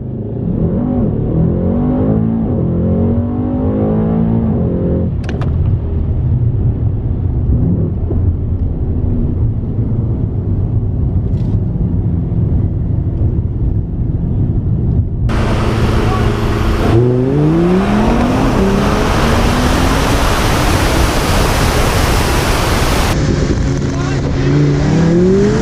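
Cars race side by side, an Audi R8 among them, with a loud continuous engine roar building through the gears, then a burst of harsh wind-blasted rushing noise as they accelerate hard at speed.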